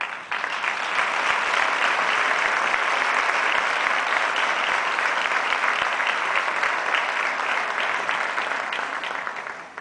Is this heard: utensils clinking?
no